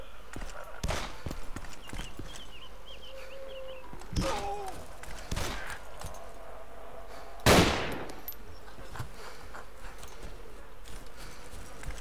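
A few scattered sharp gunshots ring out amid ambient game noise in DayZ, one louder close crack standing out near the middle.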